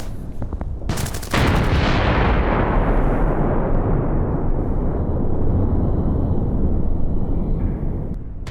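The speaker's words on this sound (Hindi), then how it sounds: "ये यूक्रेन ने धमाका किया है रूसी ठिकाने पर।" A huge blast hits a Russian position in Ukraine war footage, preceded by a few sharp cracks, then a loud booming roar that slowly rolls off and fades over several seconds.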